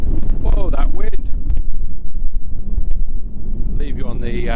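Strong wind on Stronsay in Orkney, buffeting the microphone with loud low rumbling gusts throughout, while a person speaks at the start and again near the end.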